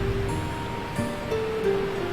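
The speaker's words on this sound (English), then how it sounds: "Please rest for a moment to look at this wonderful waterfall." A waterfall in The Settlers 5 gives a steady, even rush of water under faint background tones. No one speaks.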